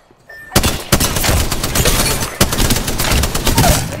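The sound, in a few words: gunfire at the player in Apex Legends video game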